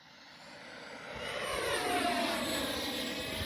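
A Freewing A-4 Skyhawk 80mm EDF RC jet flies past at about three-quarter throttle into the wind, its ducted-fan whine swelling steadily louder as it approaches and holding a strong, continuous rush.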